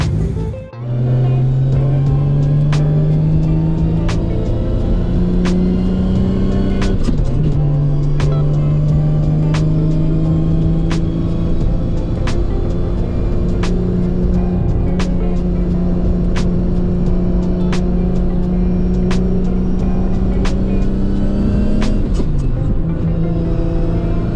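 Nissan Skyline R32 GT-R idling steadily as it warms up, a loud, close engine drone with slight pitch rises and dips throughout, continuous from start to finish.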